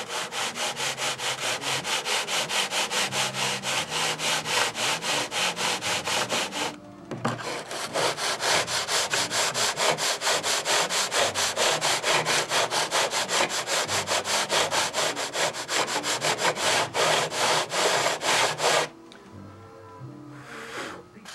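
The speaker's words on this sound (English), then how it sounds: "Now if I can just get the last little bit off the sanding block." A sanding block rasps back and forth over wood in steady, loud strokes with a brief pause partway through, then the rhythm resumes. The scraping carries on close to the microphone until it stops near the end.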